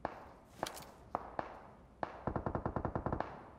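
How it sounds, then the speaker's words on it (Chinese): Gunfire in a PUBG-style battle royale shooter on the Nusa map: a few single shots ring out, then a rapid automatic burst of evenly spaced cracks, loud and close. "我的正前方有一个人在开枪"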